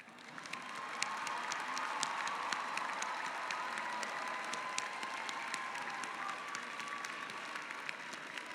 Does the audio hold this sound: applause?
yes